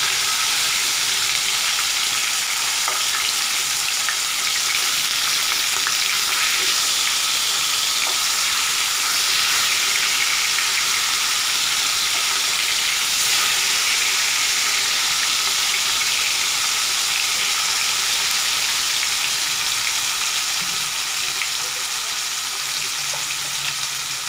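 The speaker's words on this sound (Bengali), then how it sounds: "মাছগুলো আমার 2 পিস ভালো মতো ভাজা হয়ে গেছে।" Pieces of fish fry in a pan for a Bengali fish curry, giving a steady, loud, unbroken hiss and sizzle of hot oil that holds for the whole stretch with no voices.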